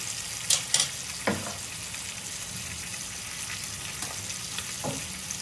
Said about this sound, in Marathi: आता उकळी आलेली आहे.